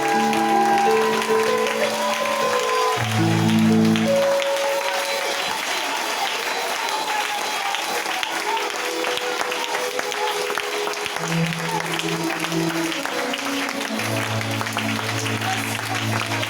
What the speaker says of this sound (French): Je voudrais qu'on se tienne tous ensemble debout et que nous acclamons Jésus